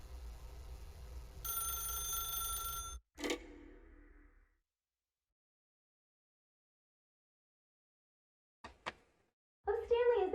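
A telephone rings in The Stanley Parable, sounding as a sustained tonal ring for about three seconds, then a sharp click before the line goes quiet; brief bursts of sound return near the end.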